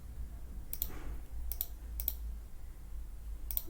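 A computer mouse double-clicks while someone works in CATIA design software, giving several sharp paired clicks spaced irregularly against a quiet background hum, close and clear.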